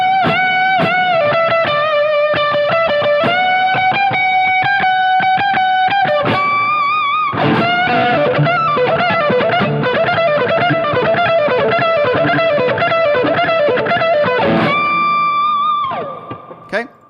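Electric guitar part from a song played up to speed with effects and distortion, a fast run of bright sustained notes and bends, loud and close, continuing steadily before fading out at the end.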